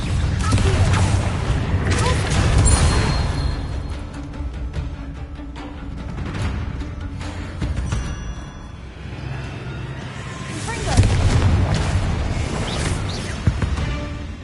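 Confringo fire spells blast in Hogwarts Legacy: a string of booming explosions and crashes comes in uneven bursts over game effects, with voices heard now and then.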